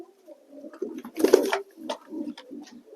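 Red mukhi pigeons coo close by in soft, low, throaty bursts, one rising louder in the middle and the rest trailing off in short, uneven calls.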